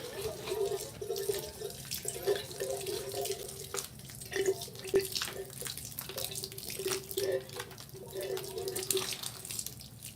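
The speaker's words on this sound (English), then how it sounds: "So I'm gonna water the soil now." Water pours steadily from a container onto soil in a ficus plant pot, a continuous splashing trickle with soft uneven gurgles, close by and with no talking.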